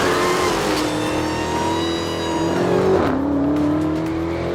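A supercharged 6.2-liter Hemi V8 in a Dodge Challenger SRT Demon revs loudly and continuously up close, its pitch climbing with throttle, dipping once, then rising again.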